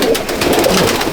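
Andhra and Malwai pigeons in a loft give a brief burst of dense, overlapping cooing, close and fairly loud.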